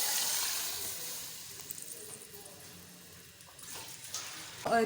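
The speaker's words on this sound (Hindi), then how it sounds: "अब हम इसमें ना पानी डालते हैं।" Water poured into a pot of browned chicken for pilau, a hissing splash that is strongest at the start, fades to quieter trickles, then swells briefly again at the end.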